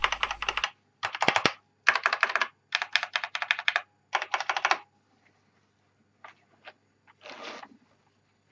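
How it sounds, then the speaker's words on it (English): Fingers type on a vintage mechanical keyboard with smooth Cherry MX Black switches, producing rapid close-up clacking in several bursts. After a pause come a few sparse, fainter keystrokes. No speech is heard. "This keyboard has a very smooth cherry MX blacks"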